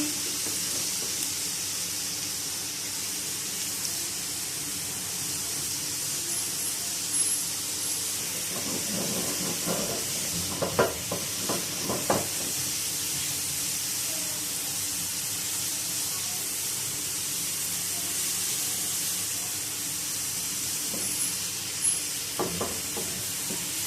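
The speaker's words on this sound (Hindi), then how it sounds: "हम इसमें थोड़ा सा साबुत गरम मसाला ऐड करेंगे। इसको फ्राई कर लेंगे।" Whole garam masala fries in hot oil for a lentil tadka, a steady soft sizzle and hiss that runs throughout, with a few light clinks of stirring partway through.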